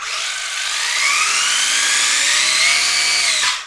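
A high, continuous electric whine from an RC monster truck's motor and loud gears rises slightly in pitch, loud and close, then cuts off abruptly.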